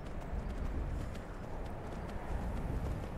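Steady galloping hoofbeats of a horse in Skyrim pound along continuously, close and fairly loud, with a rumbling, slightly muffled game-like quality and no voices.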